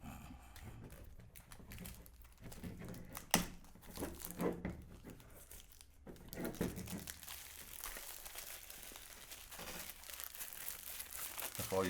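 Packaging crinkles and crackles up close as a DB3 earphones box is unboxed, with irregular crunchy rustles throughout and a voice talking over parts of it.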